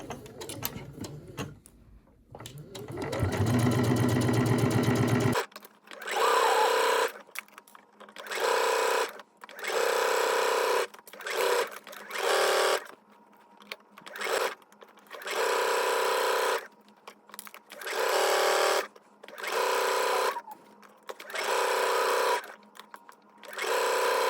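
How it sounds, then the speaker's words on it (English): A sewing machine runs in repeated bursts of rapid stitching, stopping and starting about a dozen times, close and clear, after a brief rustle at the start. "I'm going to go ahead and take this to the sewing machine"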